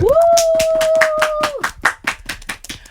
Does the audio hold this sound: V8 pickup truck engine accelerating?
no